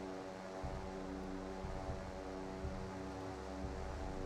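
A P-3C propeller aircraft in the naval video game Sea Power, a low steady droning hum with a faint rhythmic pulse, quiet and constant with no voices.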